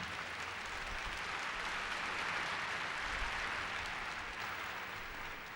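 Audience at a community gathering applauding, a steady broadband wash of clapping that holds at an even level throughout, with no talk over it.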